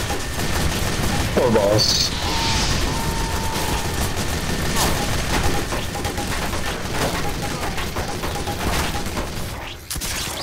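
Team Fortress 2 gunfire crackles as a steady barrage of shots and mechanical clatter through the whole stretch, with voices talking over the chaotic game action.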